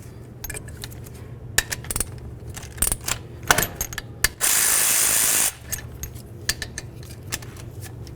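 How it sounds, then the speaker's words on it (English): A hand ratchet works loose brake caliper slider bolts on a Jeep Wrangler, giving close, clicking pawl ticks and metallic clinks, with a brief steady burst of hissing noise midway. "Now we're going to remove our caliper slider bolts."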